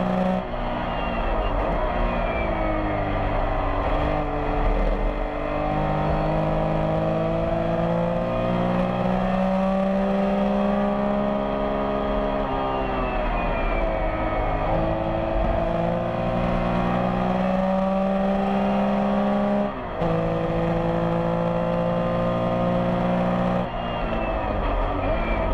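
Porsche race cars at the Rennsport Reunion drone steadily past at a distance, their engines rising and falling through long continuous passes, with a commentator's voice faintly underneath.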